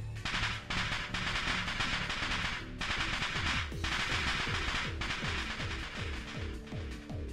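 Rapid crackling bursts like firecrackers from a dust explosion in the Steins;Gate video game go off in dense, loud volleys, with brief gaps between them and falling tones underneath.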